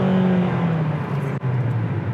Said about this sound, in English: It's time for that charger to feel the beast of the HRV acceleration.